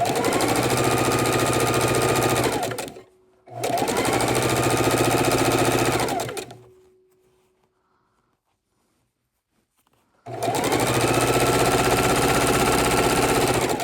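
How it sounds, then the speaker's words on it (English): A sewing machine stitching a quilt border runs in three loud, steady bursts of rapid mechanical whirring, separated by short pauses and one longer silence, with no talking. "we're just going to sew our first border on"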